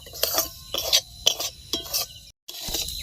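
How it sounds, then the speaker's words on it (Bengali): Semolina stirred in hot ghee in a pan, a spoon scraping and clinking against the metal in quick repeated strokes over a light sizzle, close and fairly loud, with one brief silent gap. "ঘিটা গরম হয়ে গেছে এবার সুজিটা দিয়ে দিব তো এবার হালকা আছে সুজিটাকে ভেজে নিব"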